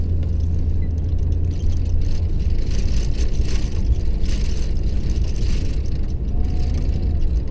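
A truck in 2-wheel drive spins its wheels on an icy, snowy hill, its engine roaring steadily and close with a constant low rumble throughout.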